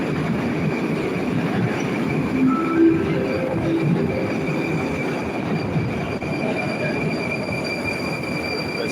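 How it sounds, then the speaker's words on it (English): A train pulls in on a Moscow rail line, with loud steady rumble and high-pitched wheel squeals rising and fading over the running noise, with no talk. "I'm hoping this is a train coming for."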